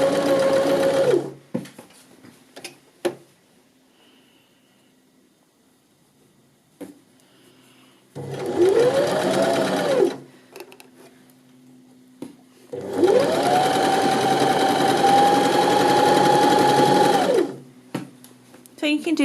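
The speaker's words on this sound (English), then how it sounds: "Lift your presser foot, pivot, and we're coming down to finish the rest of this seam with your 3/8 1 centimetre seam allowance." A sewing machine stitches a side seam with a pocket on trousers or a skirt, running in three sustained motor bursts that rise in pitch and hold steady, close and loud, separated by quiet pauses with some talking.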